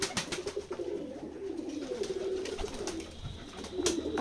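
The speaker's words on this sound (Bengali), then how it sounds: "সকল ধরনের কবুতর লালন পালন করে থাকি" Pigeons at a village pigeon-rearing place in Keshabpur, Jessore, coo in soft, repeated low calls, close by and steady against a light background of other birds.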